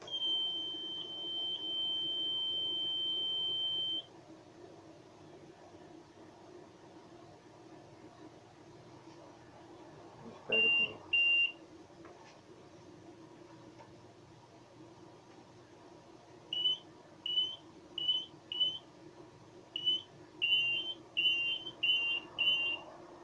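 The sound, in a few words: Mineoro DC2008 metal detector beeping after being switched on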